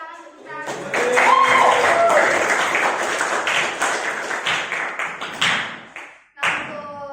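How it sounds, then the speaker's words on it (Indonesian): Children in a classroom break into brisk, dense clapping for several seconds, loud and close, with voices mixed in, before it fades and resumes briefly. "Terima kasih. Tepuk tangan"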